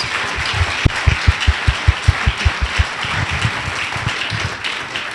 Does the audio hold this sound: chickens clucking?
no